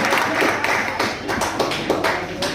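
Students at a class 12 farewell party clap loudly, a dense, steady round of applause that holds for the whole stretch.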